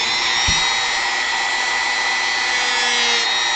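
Sanding block rubbed steadily across a small carved wooden model part, a continuous close, even scraping hiss with no clear strokes, and a single faint tap near the start.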